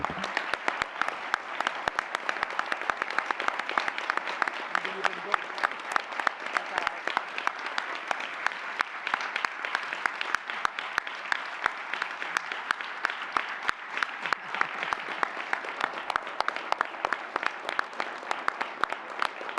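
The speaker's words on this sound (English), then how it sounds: "Could you both stand and get a round of applause?" Sustained applause from a crowd at a school board meeting, dense and steady clapping that continues for the whole stretch without pause.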